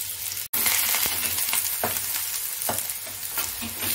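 Chopped large onions fry in a pan for an egg dish, a dense steady sizzle with scattered stirring clicks and scrapes, close by, with a very brief dropout near the start and no voices.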